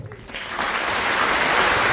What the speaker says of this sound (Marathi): आणखीन एकदा बघा, जोरदार टाळ्या झाल्या पाहिजेत